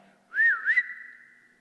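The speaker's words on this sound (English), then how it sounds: "suddenly she heard a sharp whistle" A sharp two-note whistle, rising then swooping, rings out clearly with a faint trailing tone afterward.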